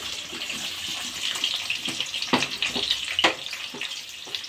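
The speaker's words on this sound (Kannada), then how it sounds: "1-2 ಹಿಡಿ ಒಂದೆಲಗ ಸೊಪ್ಪು, ಈರುಳ್ಳಿ 3, ಇವನ್ನ ಹುರ್ಕೊಳ್ಳೋದು ಎಣ್ಣೆನಲ್ಲಿ" Brahmi leaves and chopped onions frying in hot oil, a continuous crackling sizzle with a few sharper pops and stirring scrapes in the middle, no talking.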